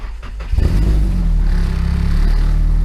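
A Nissan SR20DET engine, with a couple of exhaust leaks from the downpipe, cranks briefly and catches, then settles into a loud, steady, close running idle with a slight rhythmic pulse.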